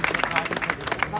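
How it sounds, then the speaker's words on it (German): Crowd clapping at a Pride event in Munich, a fast irregular patter of many hands, fairly close and loud, with voices mixed in. "Applaus!"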